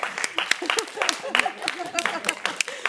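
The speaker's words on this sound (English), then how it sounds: "let's give her a round of applause," A classroom audience at a school debate applauding with dense, steady clapping throughout, voices mixed in beneath the claps.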